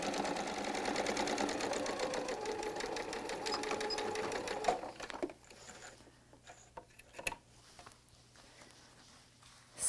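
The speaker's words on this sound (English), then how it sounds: "I'm letting this machine pull this along. I'm not pulling and pushing and yanking." Sewing machine stitching quilt fabric for a kaleidoscope block, a close, fast steady rattle of needle strokes for several seconds, then stopping and leaving light handling taps and rustles.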